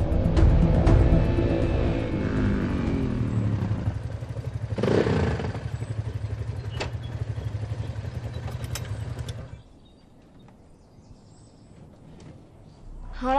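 A motorcycle rides up close and loud along a street, its engine droning steadily for about nine seconds before cutting off, leaving quiet background.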